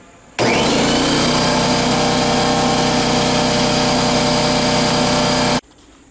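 A Husky C303H air compressor runs while filling its tank. It starts abruptly, then holds a loud, steady motor and pump roar for about five seconds before cutting off sharply. No voices are heard.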